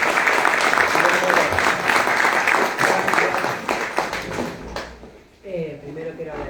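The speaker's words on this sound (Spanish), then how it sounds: "Así que denle un aplauso a Carola también." Audience applause at a human rights education discussion event, dense clapping filling most of the clip before fading out near the end as a speaker begins talking.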